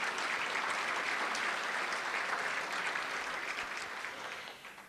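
Steady applause from an audience at the 2015 Seminole County State of the County event, a dense, even wash of clapping that holds for several seconds and tapers slightly at the end.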